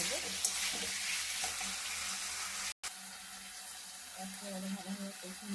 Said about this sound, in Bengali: ভালোভাবে কষিয়ে আমি একটু জল দিয়ে দেবো